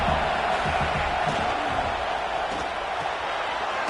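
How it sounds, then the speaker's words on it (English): Stadium crowd noise from the College Football 26 video game, a dense, steady roar from a large hostile crowd with a commentator's voice faintly underneath. "This crowd trying to make life miserable for this offense."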